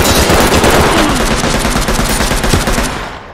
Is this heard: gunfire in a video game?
yes